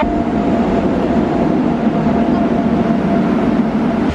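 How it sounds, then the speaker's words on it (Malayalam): A steady, loud rumble of a train arriving at a Kerala railway station, continuous with a low droning hum throughout. "അപ്പൊ ട്രെയിൻ എത്തി നിലമ്പൂര് അതിലോട്ട് പോണ"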